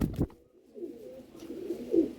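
Pigeons cooing in a loft, a soft low rolling coo building through the clip after a brief flutter at the start, close and moderately loud with no talk.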